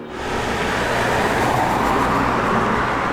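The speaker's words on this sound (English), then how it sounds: "A peaceful waterway and car traffic nearby." Car traffic passes near a peaceful waterway as a steady wash of road noise that fades in quickly and then holds at an even, moderate level.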